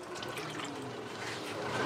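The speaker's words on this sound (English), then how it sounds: "They pour it all from that barrel." Local beer pours from a barrel in a Ugandan village, a brief soft splashing and gurgling of liquid filling a container, faint and steady with quiet background ambience.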